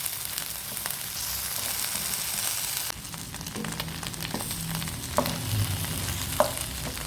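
Kallur fish pieces crackle and sizzle on a hot tawa, turned one at a time, with scraping spatula knocks and sharp taps over the continuous close frying hiss.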